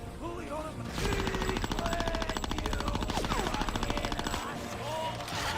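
Fully automatic gunfire in the Conker's Bad Fur Day video game: a rapid, steady stream of shots running for about four seconds, loud and close, over tonal game effects.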